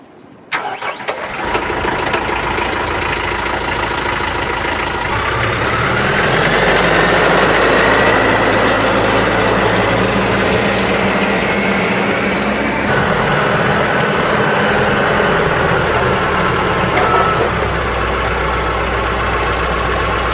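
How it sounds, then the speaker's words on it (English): A farm tractor's engine cranks and catches, then settles into a steady, loud idle that runs on close by with a rough mid-range rumble and no talking. "I'm gonna fire up the tractor and go get another bale of hay."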